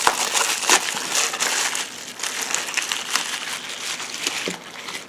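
Crinkling and crumpling of protective plastic packaging as parts from a Border Model 1/35 Japanese Army Tiger I model kit are unwrapped, close and continuous rustling with no talk.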